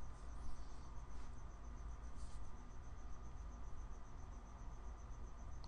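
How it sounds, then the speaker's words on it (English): An outdoor cricket chirps in a continuous, evenly pulsed trill, faint and distant beneath a low steady room hum, with no one speaking. "There's a cricket outside."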